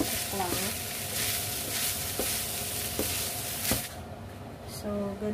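Food sizzles steadily in a frying pan for a healthy home-cooked lunch, a continuous close hiss with intermittent clinks and stirring scrapes, quieter near the end.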